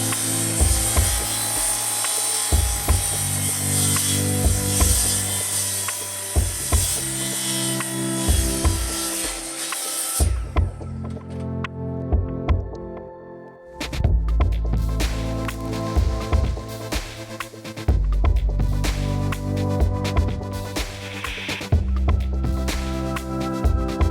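Power tool cutting hardwood nearby, a loud buzzing whine that rises and drops as it bites into the wood, with brief stops and restarts in between.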